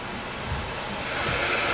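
Water sprays over a Mazda CX-5 going through a car wash, a steady broadband rush like surf that swells slightly louder toward the end, with no voices.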